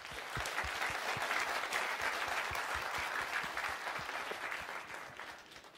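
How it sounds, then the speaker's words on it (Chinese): A live audience applauds for pool player Jeanette Lee before a women's 9-ball billiards match, steady crowd clapping with sharp individual claps standing out, then gradually tapering toward the end. "那么我们再次呢用掌声来给珍妮特里加油鼓劲儿"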